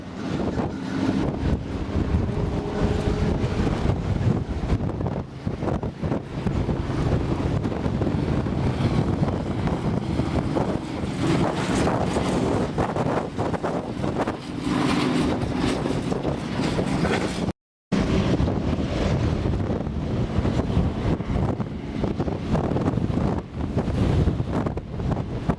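Strong, gusty wind at an outdoor race track, blowing around 25 to 30 miles an hour and buffeting the microphone in a continuous loud roar, broken by one very brief drop-out.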